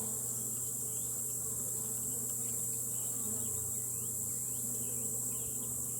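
Honey bees drone in a dense, continuous buzz at an open hive, steady and close, with individual bees whining past now and then; no voices.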